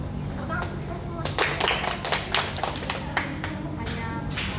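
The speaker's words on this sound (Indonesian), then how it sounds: "Tepuk tangan untuk kita semua." Hand clapping from a group playing a game, heard as a run of sharp irregular claps in quick bursts over a steady background hum, with some voices among them.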